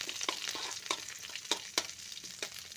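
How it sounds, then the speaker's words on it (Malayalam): Grated coconut, dried chili and curry leaves fry in a pan while a spoon stirs them, giving a soft sizzle broken by sharp, repeated scraping taps, close and alone. "ഒന്ന് ഇളക്കി കൊടുക്കാം"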